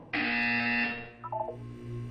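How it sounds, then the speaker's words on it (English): A loud electronic buzzer from the video game Portal 2 sounds once as a steady, harsh tone of about a second, then a few short, quieter chirping beeps follow over a low background hum. "When you hear the buzzer, look down at the floor."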